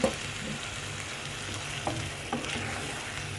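Onions frying with tomato juice as they are stirred in a pan, a steady close sizzle with a few soft scrapes of the spoon, no voices.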